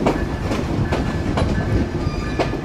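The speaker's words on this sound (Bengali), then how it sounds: "আমরা ইতিমধ্যে প্রবেশ করছি ঝিনাইদহ কোটচাঁদপুর রেলওয়ে স্টেশনে" Chitra Express pulls into Kotchandpur railway station in Jhenaidah, its wheels beating a regular clickety-clack about twice a second over a steady rumble, heard close from aboard the train with no talking.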